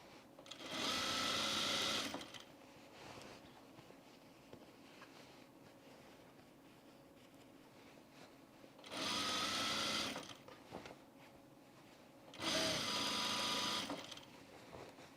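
A sewing machine stitches seams on men's pants in three loud, steady bursts of whirring, with quieter pauses between runs. No one speaks.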